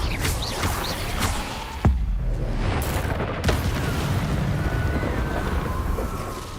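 Two sharp blasts from the Confringo spell in the Hogwarts Legacy video game, each a sudden thump that fades quickly, heard against a steady windy, rumbling game ambience.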